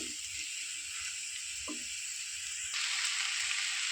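Boiled potato stirred into singara filling in a hot pan gives a steady sizzling hiss with a few soft scraping touches, growing slightly louder toward the end; no one speaks.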